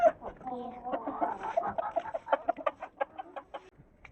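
Several backyard chickens, including a white hen, cluck in a steady run of short, close calls with a few longer vocal notes early on, moderately loud with no talk over them.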